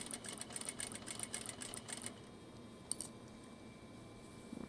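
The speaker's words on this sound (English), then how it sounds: "So we're going to sew up here." A home sewing machine stitching a Noodlehead petal pouch in a sewing room, a quiet rapid mechanical whirr of stitching for about two seconds, then stopping into low room hum with a small click.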